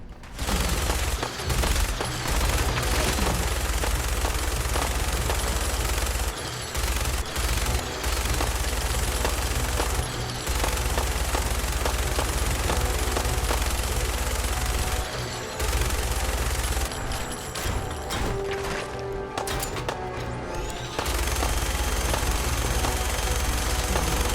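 Sustained minigun fire in a Fallout battle against raiders and an emerging deathclaw, a loud continuous rattling barrage with brief gaps and booming impacts, no talking.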